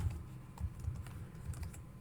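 Keys clatter on a computer keyboard in an irregular burst of close, quiet typing while a developer enters a Yarn command for a to-do app project; no one speaks.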